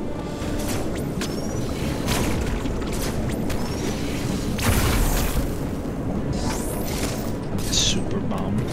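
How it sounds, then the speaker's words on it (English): A power bomb going off in Metroid Dread, a dense rumbling roar that swells and holds for several seconds with bright crackling bursts on top, loud and continuous. "Power bomb."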